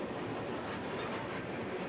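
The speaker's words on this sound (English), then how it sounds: "This is a 577 train." A freight unit train of empty cars rolls past nearby, a steady, broad rumble and rattle of wheels on rail holding evenly throughout.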